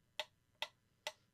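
A mechanical metronome clicks steadily, four sharp, crisp ticks about half a second apart, close and clear against quiet, with the last one slightly softer.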